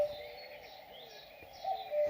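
Faint birdsong drifts over a quiet meadow: soft, sparse chirps and calls far in the background over a gentle, hushed ambience.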